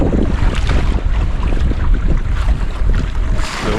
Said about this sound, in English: Yeah, we have some wind again.